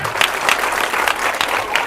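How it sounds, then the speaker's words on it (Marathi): Outdoor crowd at a Dahi Handi festival claps loudly in a short, thick burst, with pulsing handclaps and faint crowd noise behind. "त्यांच्यासाठी एकदम जोरदार टाळी होऊ द्या"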